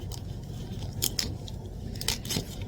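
A honey rice cake cereal package being torn open up close, with several sharp crinkling rips standing out against a low steady background hum.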